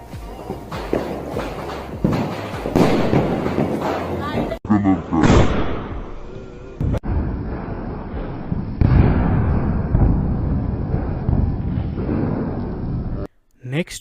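SDS brand 2-inch sky shot firework shells with red and green effects go off outdoors: several sharp bangs and booming bursts crowd the first seconds, then duller thumps and rustling movement follow with scattered noise.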